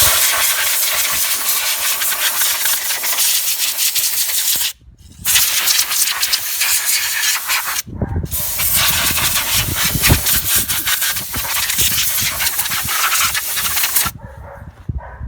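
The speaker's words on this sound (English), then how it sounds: "I'm just gonna use some compressed air to blow off all the dirt and rust" Compressed air blowing dirt and rust off the front disc brakes of a Toyota Corolla Matrix makes a loud, close, continuous hiss in long blasts, broken by brief pauses.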